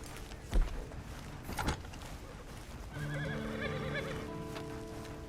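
A horse in a video game whinnies with a couple of brief snorting bursts, then a sustained musical tone takes over beneath it. No speech is heard.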